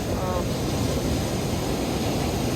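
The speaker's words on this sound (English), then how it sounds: "I love these waves." Ocean waves at Playa La Bocana in Bahias de Huatulco, Oaxaca, Mexico, give a steady broad wash of surf, loud and continuous, with wind noise mixed in.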